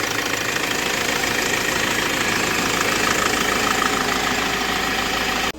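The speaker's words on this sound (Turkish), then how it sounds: "Bu çalışan Ford Transit'in motorunu topladım." A rebuilt Ford Transit engine runs at idle, whose bearings had seized when it locked up, giving a loud, steady close-up rumble with a fast, even knocking pulse throughout, cutting off at the very end.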